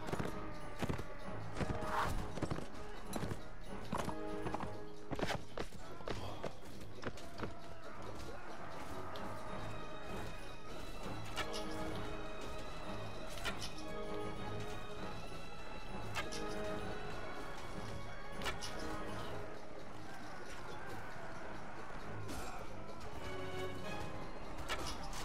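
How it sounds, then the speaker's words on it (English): Horse hoofbeats and impact hits from mounted combat in the Mount & Blade: Warband video game, a steady busy clatter of galloping and blows layered with battle noise and music throughout. "so our horse is really taking a beating"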